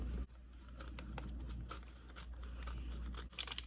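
Scissors cut into a plastic package of THCA hemp, with close, crisp snips and rustling crinkles of the bag arriving in quick irregular bursts.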